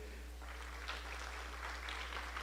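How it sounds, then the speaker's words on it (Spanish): Steady applause from a crowd at an education panel during an international book fair, a continuous patter of clapping throughout, moderately loud with a low hum underneath. "El aplauso para él."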